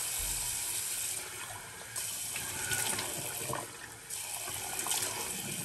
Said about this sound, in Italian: e nel frattempo mi bagno il viso